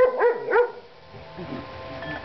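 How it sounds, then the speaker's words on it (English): A dog gives two quick, close barks, then the sound settles into quiet background noise. "Katie, stop barking."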